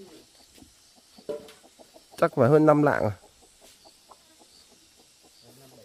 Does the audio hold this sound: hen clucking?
yes